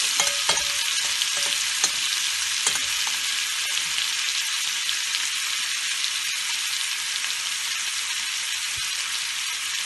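Cooked shrimp browning in a skillet for a blackened Cajun shrimp rice dish with bell peppers, giving a steady, bright sizzle throughout with a few sharper pops and stirring clicks, close and continuous with no talking.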